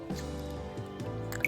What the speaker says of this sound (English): squeeze some lemon juice